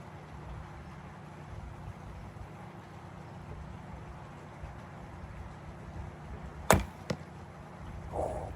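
A broadhead-tipped arrow released from a Timberghost TGX Supercurve traditional bow during outdoor target practice: a single sharp, loud crack of the shot, then a brief faint impact, over quiet ambient background.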